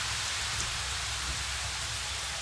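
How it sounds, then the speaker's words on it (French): Heavy rain pours outside an abandoned furnished country guesthouse. It makes a dense, steady hiss that holds even and continuous throughout. "Et la pluie battante dehors."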